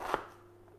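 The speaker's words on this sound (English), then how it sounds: "so I'm doing the Annette chopping here, so we need to dice, and we want half a cup" A knife chops onion on a kitchen board, one brief sharp chop then quiet background hum, alone without talk.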